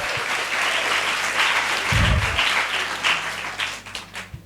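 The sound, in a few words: audience applause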